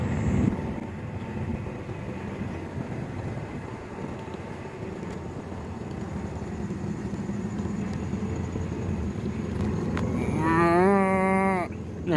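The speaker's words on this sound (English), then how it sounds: "There's the cows." Cattle on a dry farm pasture give a loud, drawn-out moo with a rising, wavering tone near the end, heard over steady outdoor background noise.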